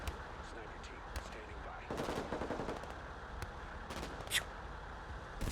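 Gunfire from scout snipers in the Broken Arrow strategy game crackles faintly under a dense battle din, with scattered distant shots and short bursts rising over a continuous low rumble.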